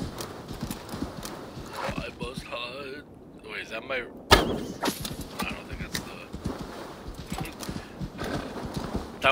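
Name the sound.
horse galloping in Assassin's Creed Valhalla video game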